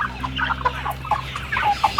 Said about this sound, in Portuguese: Aqui já temos um galo, um frango, né?